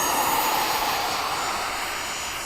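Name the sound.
Habu model jet aircraft flying at RC airfield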